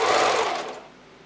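A sewing machine zigzag stitches elastic onto a bra in one short, close whirring burst that quickly fades.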